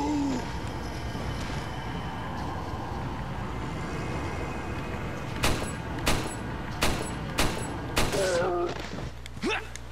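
Single gunshots in Resident Evil 4, several sharp reports spaced about a second apart in the later half over a steady game ambience, each loud and distinct against the background.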